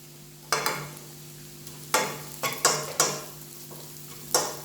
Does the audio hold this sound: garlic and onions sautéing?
yes